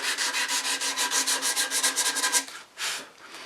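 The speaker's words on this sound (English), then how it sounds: "if I were to take this and round it over, this sandpaper cleans it up pretty fast" Hand sanding of wooden chair pieces with sandpaper, rounding over an edge: quick, rhythmic rasping strokes, close and clear with no talk, about a dozen rapid passes followed by a slower final stroke or two.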